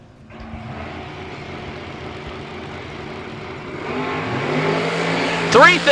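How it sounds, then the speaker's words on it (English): A 1967 Camaro launches at a drag race, engine building from a steady rumble to a rising roar, then sharp revving bursts near the end, with a commentator talking over it. "David Keaton, 67 Camaro, hopes to be able to stay out in front."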